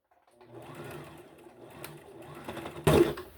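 A sewing machine stitches close to the edge of a skirt made from McCall's 7386, running in a steady, close whirring rattle that grows louder and ends with a sharp clunk.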